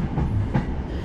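Passenger train riding on the rails, a steady close rumble and rattle from inside the carriage with faint rhythmic clatter and no talking.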